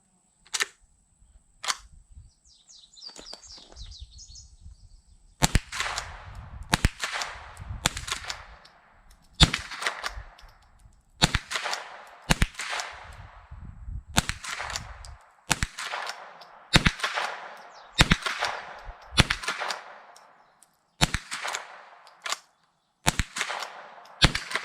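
A Rossi Gallery .22 pump rifle firing round after round at a range, sharp cracks each trailed by the clack of the pump action cycling, steady rhythm over twenty seconds, no talking.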